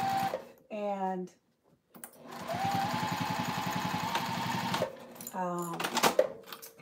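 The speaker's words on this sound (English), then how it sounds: "And now I need to sew more for my granddaughter." A sewing machine stitches leggings in a steady, rapid run of about three seconds, fairly close, with a person talking before and after it.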